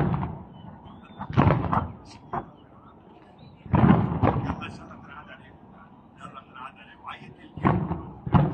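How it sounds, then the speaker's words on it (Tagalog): Fireworks explode at a New Year countdown at the Burj Khalifa in Dubai. Several deep booming thuds come in spaced bursts, some distant and rumbling, with quieter crackles in between. "Tapos na yung paputok."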